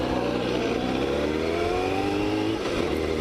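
A carbureted Kawasaki ZX-7R motorcycle with 65,000 km on it runs on the road, its engine droning steadily with rising and falling revs, close and loud without any talking.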